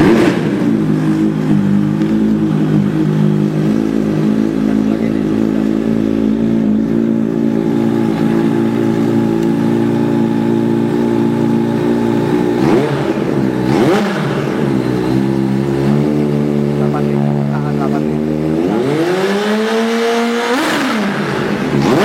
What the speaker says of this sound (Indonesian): Gimana sih denger motor yang ada supercharge-nya?